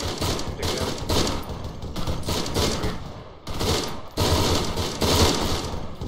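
Rapid bursts of airsoft rifle fire during a skirmish game outdoors, loud and near, coming in repeated volleys with brief pauses between them.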